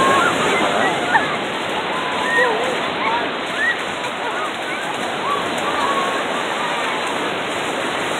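Surf at Crescent Bay in Laguna Beach, California, a broad steady wash of breaking waves and hiss filling the whole stretch, with faint crowd-like chatter or bird calls scattered above it.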